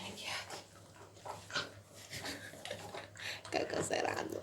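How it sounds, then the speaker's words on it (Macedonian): A dog pants and whimpers up close in short, uneven bursts, with people talking over it throughout. "Ево кучето."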